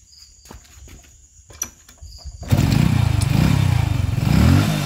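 Motorcycle engine with its spark plug cap refitted, a few clicks and clanks of handling, then the engine catches and idles loudly and steadily at close range.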